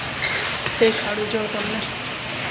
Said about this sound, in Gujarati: જો ફૂલ વરસાદ આવે છે.